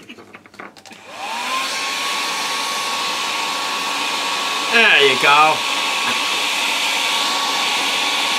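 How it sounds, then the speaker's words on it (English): A hairdryer blows steadily onto a small wind turbine, starting up after a clatter and settling into a loud, constant whine and rush of air, with a short squeaky chirp midway and a brief spoken phrase over it. "And back on with the hairdryer."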